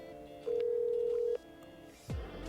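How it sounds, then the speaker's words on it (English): A single steady telephone dial tone while someone places a call, holding for about a second before cutting off, followed by a faint click and low rumble. "I'm gonna call Ben and ask"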